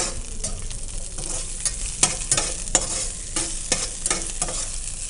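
Chopped onions with large pieces of red and yellow capsicum sizzle and fry in a pan for dragon paneer, stirred with repeated scraping clatters over a steady hiss, no one talking.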